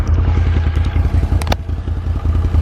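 A brand-new 2021 Can-Am Renegade XMR 1000 ATV engine runs close by in a steady, throbbing idle with low pulsing exhaust, plus a couple of brief clattering knocks.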